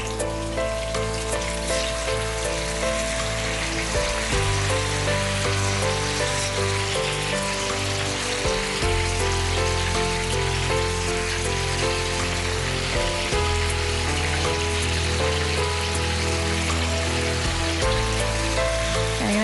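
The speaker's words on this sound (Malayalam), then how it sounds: "ഈ ചൂടായി കിടക്കുന്ന ഇതേ എണ്ണയിൽ തന്നെ ബാക്കിയിരിക്കുന്ന ചിക്കൻ്റെ പീസസ്" Chicken pieces fry in hot oil with a constant, dense crackling sizzle like heavy rain, steady and close throughout under a low background hum.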